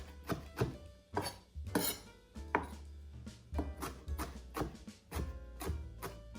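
A knifeSaga kitchen knife chops fresh herbs on a board for pico de gallo, giving about a dozen crisp, close knocks in an uneven rhythm, with a brief mumbled voice in between.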